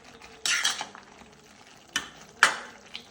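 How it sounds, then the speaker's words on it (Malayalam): Rice gooseberries being stirred in a pan while roasting for pickle, a spoon scraping the pan in three distinct bursts with quieter faint shuffling between, no voices. "ഒന്നുകൂടി നമുക്ക് നല്ലോണം ഇളക്കി കൊടുക്കാട്ടോ."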